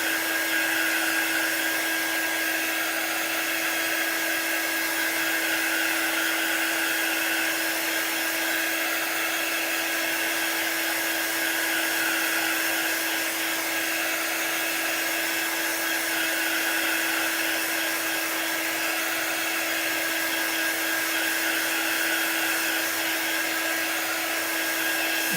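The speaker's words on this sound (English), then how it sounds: "Actually, I should probably dry this because that was wet." A hair dryer blows steadily on wet chalk paint, a loud, even whirring hiss running without a break from start to finish.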